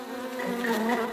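Bees buzz steadily up close, a dense droning hum that swells slightly louder toward the end.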